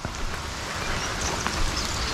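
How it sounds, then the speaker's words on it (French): Water gushes from an inlet after rain beside a river fishing spot. A dense, steady rushing wash fills the scene, close and continuous, with no talk. "Je viens de remarquer qu'avec la pluie là, il y avait une arrivée d'eau. Bah, ça débite à mort."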